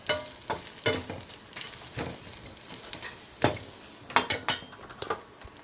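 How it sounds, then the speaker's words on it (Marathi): Peanuts and cumin seeds dry-roast in a pan for kharda, with intermittent sharp metallic scrapes and clinks of a spatula over a faint crackle. "शेंगदाणे जरा भाजलेलेच आहेत त्यामुळं जास्त भाजायला लागणार नाही जिरे जरा भाजत घातले"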